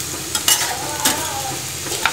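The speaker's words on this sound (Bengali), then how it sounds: "পেঁয়াজটা লাল লাল করে ভেজে নিব।" Onions frying in mustard oil, a dense close sizzle broken by a few quick spatula scrapes against the pan.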